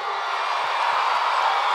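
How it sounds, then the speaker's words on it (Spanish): A large festival crowd at the 2024 Viña del Mar International Song Festival keeps up a steady, dense roar of cheering and applause for the whole short stretch. "Un aplauso para Rochi y para Martu"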